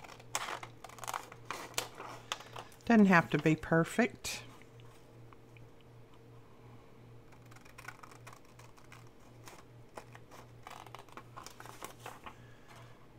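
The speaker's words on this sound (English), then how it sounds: "Now I'm going to try to use my big scissors on this to see if I can go a little bit straighter." Large scissors cutting through freezer paper, deli paper or vellum for a DIY pocket or envelope, giving a quick burst of close, crisp snipping for about a second, with a person talking before and after.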